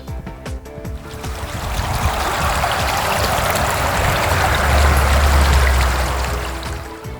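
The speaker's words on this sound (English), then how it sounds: "And there's also a brook" A brook running along the north line of a rural Maine property, heard as a steady, close rush and trickle of water that swells slightly toward the end, with no voices.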